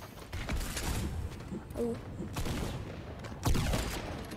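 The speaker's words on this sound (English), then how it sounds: "Stop shooting at me." Gunfire in a video game crackles in rapid bursts and volleys of shots at steady loudness, with a short spoken exclamation in the middle.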